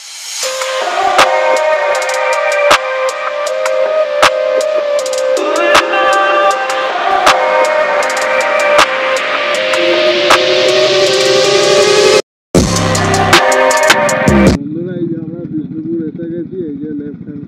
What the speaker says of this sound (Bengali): এই যে পরপর তিনটে বাইক আমাদের